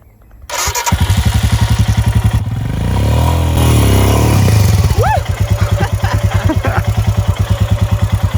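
Royal Enfield Himalayan single-cylinder engine fires up and runs nearby with a loud, even thumping beat, swelling as it is revved through a tight turn, then settling back to a rhythmic idle-like pulse.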